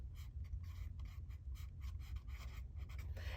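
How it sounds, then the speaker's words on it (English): Handwriting a name in an Erin Condren teacher planner: soft, close pen scratches on paper in short quick strokes and pauses, faint and intimate. "I will just write my name here"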